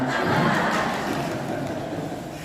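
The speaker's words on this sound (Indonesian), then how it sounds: "Tepuk tangan anak-anak." A group of children claps together at a religious gathering, a dense, continuous patter of many hands filling the room evenly, fairly loud and without talk.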